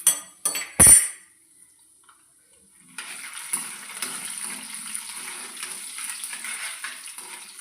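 Mustard seeds, cumin seeds and chana dal crackle and sizzle in hot oil as a tempering for chintamani pachadi. A soft, steady spattering follows a few clanks of a utensil.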